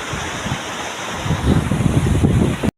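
Rainwater pours steadily into a half-filled village pond after a second day of heavy rain, a continuous rushing, splashing wash of flowing water that swells louder midway and runs without any talk.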